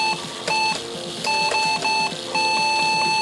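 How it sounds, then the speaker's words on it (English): An old IBM computer beeps repeatedly, steady electronic tones starting and stopping in an irregular pattern over a low rattling mechanical background hum. "Well, we know how to make it beep."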